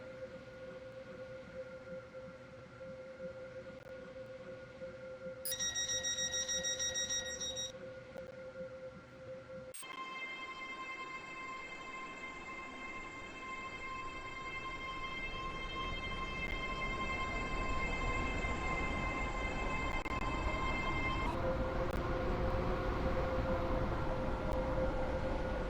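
A train in Roblox Stepford County Railway runs with a steady rolling rumble, while sustained horn-like tones sound in segments above it, growing slightly louder toward the end.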